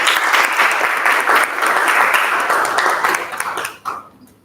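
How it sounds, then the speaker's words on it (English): Loud applause from an audience, dense clapping that carries on steadily before tapering off and fading out near the end. "So please invite her with a round of applause."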